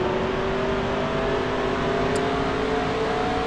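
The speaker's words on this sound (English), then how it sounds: "just let you guys hear the engine" Stock car engine from NASCAR Racing 2003 at New Hampshire, a steady loud drone with a sustained harmonic whine throughout and no voices.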